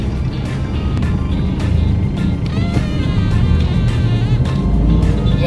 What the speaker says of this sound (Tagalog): Kaya medyo traffic yung area kasi malapit sa palengke.